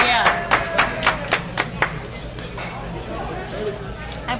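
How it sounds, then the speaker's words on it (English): Applause from a crowd at a live $1-$3 no-limit hold'em poker game during employee night, set off by a broken plate or glass: a burst of claps over the first two seconds that fades into a murmur of people talking. "I believe that someone broke a plate or a glass or something. That's why they were clapping."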